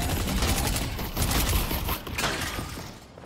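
Rapid volley of shotgun blasts from a mini shotgun in the video game Deadlock, dense and loud, with repeated close bursts overlapping through the whole stretch and thinning near the end.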